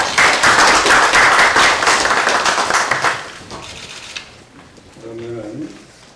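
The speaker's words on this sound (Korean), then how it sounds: "이제 세 분의 박수" A small group applauds at a party leadership meeting, brisk clapping close by that thins and fades after about three seconds, followed by quieter room sounds and a brief voice near the end.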